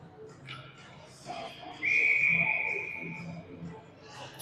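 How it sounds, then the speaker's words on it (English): During an ice hockey game, a referee blows one sustained, piercing whistle blast for icing, lasting about a second over quiet rink ambience. "it'll be an icing whistle and a face-off back in the Buffalo end"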